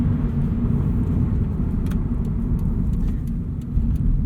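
Subaru BRZ with a catted UEL header on the stock exhaust, at about 58,900 miles, gives a steady low, droning engine and exhaust rumble heard from inside the car, with no voices.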